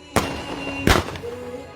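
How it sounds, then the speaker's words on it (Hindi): Fireworks bursting in the night sky over Ajmer during a celebration, two sharp loud booms about three-quarters of a second apart, each with a short crackling tail, no voices. "किस तरह से आसमान में एक के बाद एक लगातार यहाँ पर आतिशबाजी हो रही है"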